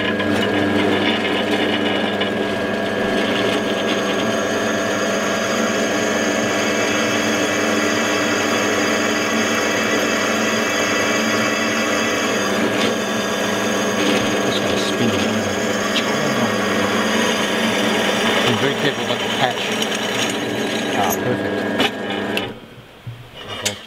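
Drill press boring a hole through the base of a hexagonal Art Deco aluminium bulkhead wall light, a steady loud machine drone with grinding texture running continuously for about twenty seconds before cutting off.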